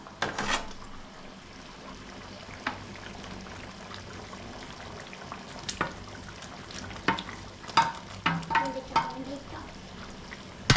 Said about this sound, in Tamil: நம்ம வெண்டைக்காய் சேர்த்து நல்லா கலந்து விட்டுடலாம்